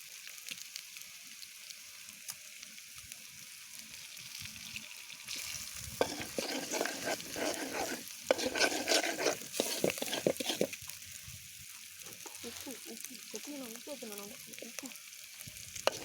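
Egg rice fries in a pan, with a soft steady sizzle broken by bursts of scraping and stirring, fairly quiet and close, while a voice talks faintly in the background.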